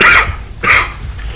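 Two dry coughs from an adult at a parks board meeting, close and sharp, separated by a short pause, with no talking.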